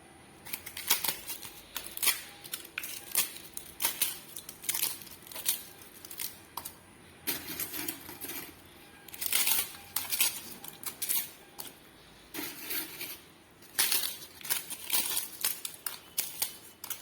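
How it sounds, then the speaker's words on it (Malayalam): Crushed pappadam tipped into a pan with the flame off, giving repeated dry, brittle crackles and light scraping clicks in uneven bursts, fairly close and moderately quiet. "ഇനി ഇതിലേക്ക് പപ്പടം പൊടിച്ചത് കൂടി ചേർത്ത് കൊടുക്കാം"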